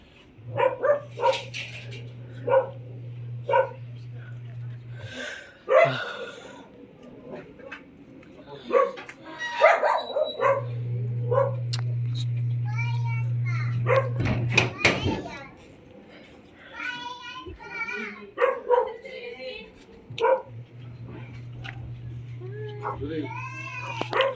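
A dog barks in a few short bursts amid a busy household, with children talking, a cat meowing, and a steady low hum in the background.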